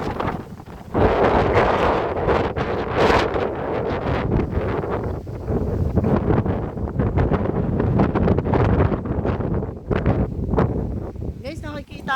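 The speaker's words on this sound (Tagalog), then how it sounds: "Wow, ang lakas ng hangin." Strong wind roars across a hilltop pavilion in Tanay, buffeting the microphone in loud, continuous gusts with rustling; voices can be heard faintly in the mix.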